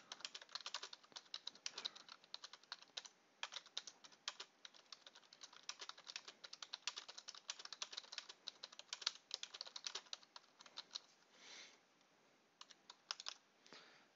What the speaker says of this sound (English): I can type reasonably quick.